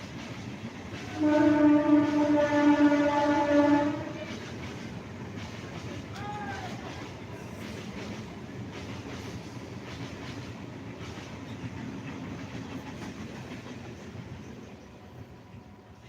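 A train passing at a distance, its horn sounding a steady sustained blast for a couple of seconds near the start, followed by a continuous low rumble and rolling wheel noise that slowly fades, with no one talking over it.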